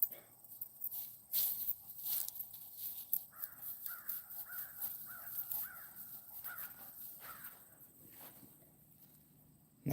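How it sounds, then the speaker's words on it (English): A crow caws repeatedly in a field on a fall hike, a run of about eight hoarse calls in a steady rhythm at moderate distance. Footsteps crunch along and a few other sounds come and go around them. "That crow is loud."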